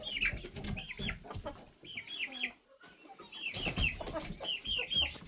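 Several chickens clucking softly in a deep-litter coop at bedtime, close and overlapping in short bursts, with a brief lull midway before the murmuring chatter resumes.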